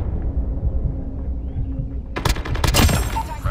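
A sentry gun turret fires in COD Mobile, sounding as a sudden burst of rapid gunfire that breaks in about two seconds in, loud over a steady rumbling game background.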